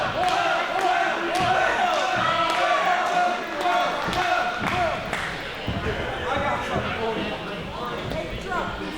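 A crowd in a Tiffin arena at an indie tag-team wrestling match keeps up a busy, noisy din. Sharp slams and thuds from the ring punctuate it, with a commentator talking over the top.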